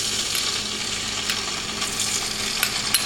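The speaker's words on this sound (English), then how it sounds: "I'm going to let it fry for 2 to 3 minutes" Haitian epis, a seasoning blend, frying in olive oil in a pan, producing a close, steady crackling sizzle with a few brief spits and pops and no voices.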